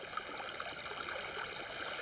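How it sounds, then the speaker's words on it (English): Water from a toy dam flows in a steady, even trickling rush, close and fairly quiet, with no voices. "here comes the water"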